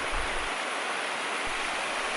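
River water flowing steadily at Paderne, a broad, even rush close by with a faint low rumble dropping in and out, no voices.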